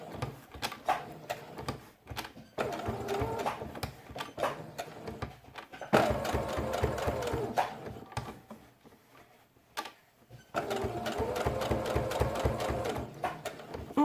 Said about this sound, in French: On peut faire un point marche arrière sur la queue pour faire une couture un peu plus solide.